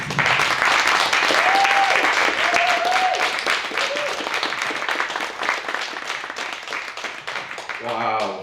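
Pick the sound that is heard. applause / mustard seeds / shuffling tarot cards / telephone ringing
applause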